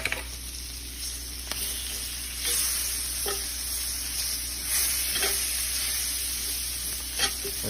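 Onions and all-purpose flour sizzle steadily in a pan for gravy, a continuous hissing fry with a few soft clicks of stirring, fairly close and with no talking.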